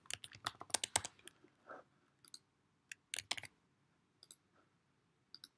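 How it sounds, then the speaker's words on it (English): Close clicking keystrokes on a computer keyboard as a short word is typed into bookkeeping software, in quick bursts of taps separated by pauses, with no talking. "So I go down here and I can type in demo."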